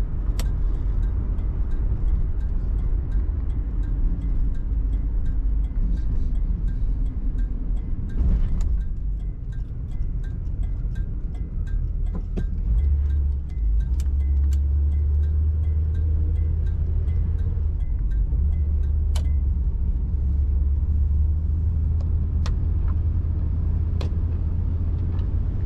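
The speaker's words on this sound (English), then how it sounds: "I'm gonna go for a drive." A 1977 Oldsmobile Cutlass Supreme driving, recorded from inside with a steady low engine and road rumble, a deeper droning hum in the second half, and occasional small clicks and knocks.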